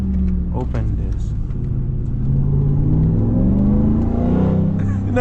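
A RAM TRX Hellcat pickup truck engine revs and accelerates up close, a deep rumbling roar rising through gears with pitch sweeps, while people talk over it.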